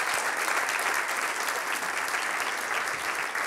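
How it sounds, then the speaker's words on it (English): An audience at a company annual meeting applauds, giving dense, steady clapping throughout that holds at an even level without a break. "So let's give Katie a round of applause."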